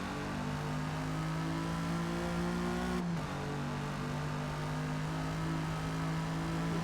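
A car engine droning steadily at close range, its pitch dipping briefly mid-way as if shifting, then holding an even hum to the end.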